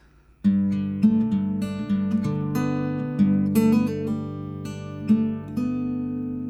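An acoustic guitar plays a short riff: plucked notes over a ringing low chord, with quick hammer-ons and pull-offs giving a smooth legato flow.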